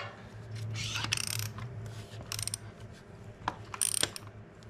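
A ratchet wrench clicks in short bursts while tightening a bolt during a timing belt repair, its pawl ticking close and fairly loud over a low steady hum, with pauses between strokes.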